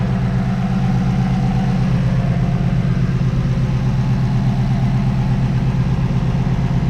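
A Ford Mustang GT350 V8 idles steadily while warming up, a deep even burble close by with no talk, the engine running smoothly.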